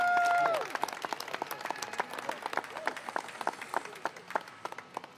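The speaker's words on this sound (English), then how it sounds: "Give him a round of applause." Applause at a cultural announcement event with hip hop celebration, sharp claps thinning out after a tone fades at the start, scattered and moderately loud over a crowd murmur.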